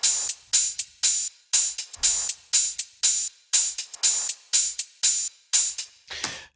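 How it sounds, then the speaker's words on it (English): Melodic house percussion loop in Ableton Live layered with hi-hats: a steady, bright, tightly syncopated pattern of sharp hits and hissy hi-hat ticks repeating evenly, moderately loud with nothing else over it. "Let's play them with the hi-hats."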